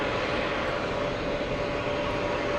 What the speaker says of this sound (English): Etihad was parked at gate 3, so the A350 is gonna move out of the way